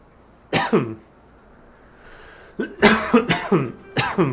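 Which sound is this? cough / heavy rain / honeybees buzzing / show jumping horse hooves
cough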